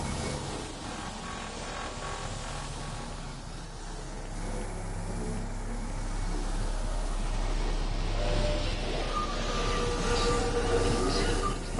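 A train rumbles through a video game train station, a steady low hum with faint metallic tones and squeals that swells gradually louder toward the end.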